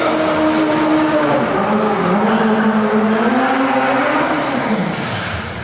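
Stunt car driven fast in reverse at a live motor stunt show, a loud, close engine roar with whining, sliding tire tones that rise and fall, fading slightly at the end.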